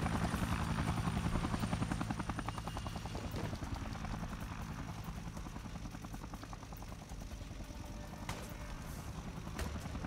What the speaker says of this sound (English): instead of convicts, we have a fucking helicopter